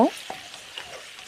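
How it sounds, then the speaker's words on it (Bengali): A utensil stirs potato pieces in a pan while making semolina pulao with winter vegetables. A sharp scrape opens the clip, and a faint, steady sizzle follows with a few light taps. "আলুর টুকরোগুলো দিয়ে একটু ভালো করে নেড়ে চেড়ে নেব"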